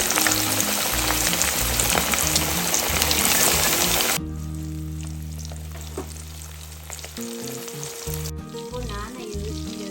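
Rava-coated Indian mackerel frying in sunflower oil, a steady dense sizzle that stays loud through the first few seconds, then settles into a softer, continuous bubbling crackle with faint background tones.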